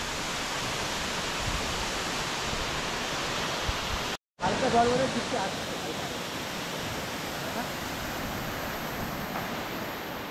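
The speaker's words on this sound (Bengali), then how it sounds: "এই যে আমাদের পেছনেই ঝর্ণা।" Continuous roaring rush of Changey Falls, near Lava and Kolakham, loud and steady throughout, broken only by a brief cut in the middle.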